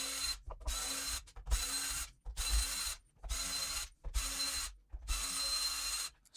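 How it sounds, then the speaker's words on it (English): A ratcheting screwdriver backs screws out of a Bang & Olufsen Beolab 2500 speaker, with close, clear bursts of rapid clicking in about seven rhythmic strokes separated by short pauses and no talking. "So I'm gonna take my screwdriver and remove all the screws first."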